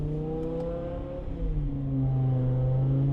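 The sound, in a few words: BMW V10 M5 car driving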